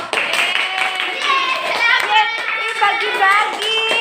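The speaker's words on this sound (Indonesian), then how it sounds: "Diberi aplaus dong" Schoolchildren applauding in a classroom during a maths lesson: a few seconds of steady, close clapping with children's voices and chatter mixed throughout.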